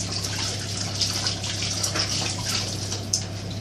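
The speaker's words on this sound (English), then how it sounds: "And then wash your hands" Hands being washed under a running kitchen tap, with a steady close rush of water and small splashes throughout, alone with no talk.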